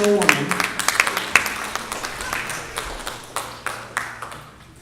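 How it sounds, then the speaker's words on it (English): An audience at a talent competition quarter-final claps for a contestant, a close run of hand claps that gradually fades, with a voice speaking at the start. "if you would give her a nice round of applause"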